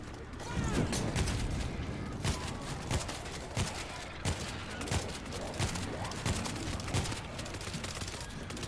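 Sustained World War Z gunfire, rapid repeated shots with sharp cracks and mechanical clatter running through the whole stretch, with occasional voices talking under the fighting.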